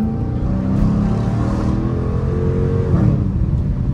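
A Dodge Challenger R/T accelerates in track mode with a steady, loud, close engine roar from inside the car that climbs slightly as it pulls, with no talking over it.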